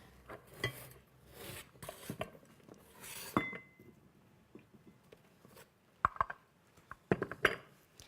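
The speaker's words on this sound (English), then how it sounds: "I'm bringing back in these stackable bowls" Stackable bowls are set down and shifted on a table during a food photography setup, producing scattered soft ceramic knocks and clinks, a few sharper taps near the end, close and fairly quiet with no talking.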